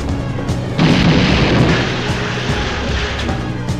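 A cartoon grenade egg explodes with a loud, sudden boom, then a rumbling roar that fades over several seconds, with no voices.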